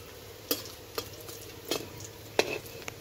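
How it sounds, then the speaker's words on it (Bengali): Sun-dried lentil dumplings (bori) fry in a pan with a soft steady sizzle, broken by several sharp scraping stirs of a spatula. "প্রথমে বড়িগুলো ভেজে নিচ্ছে।"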